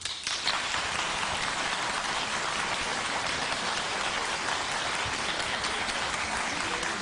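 A studio audience claps together at a talk show, a dense, steady wash of applause heard close and fairly loud throughout, with no talk over it.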